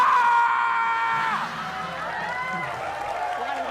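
A person screams loudly at first, a high wavering cry that falls away into strained, shaky vocal sounds nearby.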